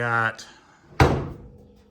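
The door of a 1974 GMC Suburban swings shut against the striker with a single loud, close metallic slam and a short ringing decay, just after someone speaks briefly.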